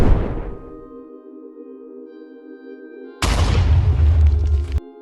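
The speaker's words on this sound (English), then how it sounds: "Explosions from propelled grenades and bursts of automatic weapons turned the attack into complete" A deep explosion boom from a rocket-propelled grenade rumbles and fades into a low ringing drone, then a second heavy blast erupts and roars before cutting off, during a motorized assault in Torske, Ukraine.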